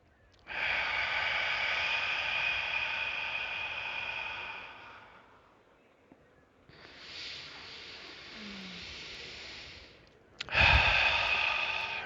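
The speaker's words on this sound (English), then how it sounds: "as we listen to the sound of our breath," Slow, steady breathing during a guided meditation, with long airy inhales and exhales separated by quiet pauses, close and fairly soft, ending in a sharper breath.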